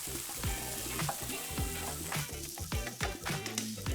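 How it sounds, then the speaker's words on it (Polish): Steady sizzling of onion and oyster mushrooms frying in a pan, with intermittent scraping and stirring clatter throughout. "Cebula z boczniakami musi teraz chwilę się podsmażyć"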